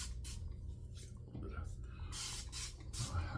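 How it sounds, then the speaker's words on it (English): Thayers cucumber mist continuous sprayer releases several long, steady hissing bursts of fine spray close up, separated by brief pauses after a shave, with quiet background noise underneath. "Cucumber mist continuous sprayer."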